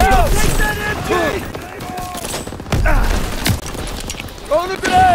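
Battle noise from Call of Duty WWII: a grenade blast and bursts of gunfire, including machine-gun fire, crackle loudly and continuously while soldiers' voices shout over the combat.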